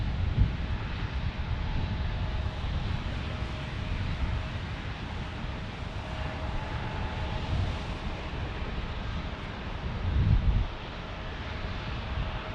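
Airbus A321neo airliner engines on a busy single runway in San Diego, heard as a steady distant jet rumble and whine with wind noise, swelling briefly near the end, and no voices.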